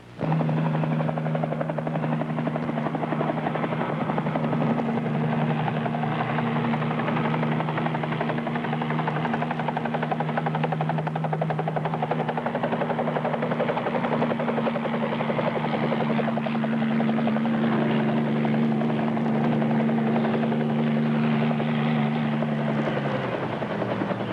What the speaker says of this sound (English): arriving by helicopter will make an impression